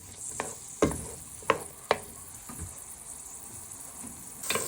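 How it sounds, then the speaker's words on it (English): Onion and garlic frying soft in a pan, a steady quiet sizzle broken by several sharp scraping stirs of the utensil, close and fairly loud over the hiss, with no talking. "we're just frying our onion and garlic so it goes nice and soft"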